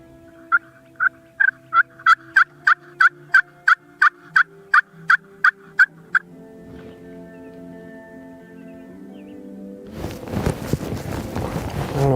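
Wild turkeys gobble outdoors during turkey season, a rapid run of about a dozen loud, evenly spaced calls that stops abruptly, followed by quiet and then a burst of broadband rustling near the end.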